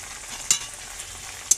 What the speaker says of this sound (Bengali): লাল লাল হয়ে গেছে, আদা রসুনটা ঢেলে দিয়েছি।